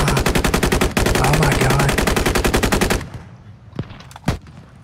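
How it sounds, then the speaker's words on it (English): Sustained automatic gunfire in the Squad game during a firefight near a tree line, roughly three seconds of dense rapid bursts that stop abruptly, followed by a couple of sharp isolated shots; a man exclaims briefly. "I don't even know what I'm shooting at, but I hope it's hit them."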